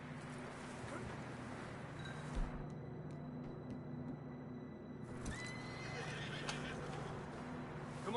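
A horse in a video game (Red Dead Redemption 2) whinnies loudly twice, long neighs over a low ambient drone, with faint hoof clops between them.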